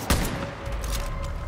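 A quick burst of gunfire in Far Cry: New Dawn co-op play, one sharp close shot at the start followed by a rattle of lighter reports over a steady low rumble, all within a second and a half.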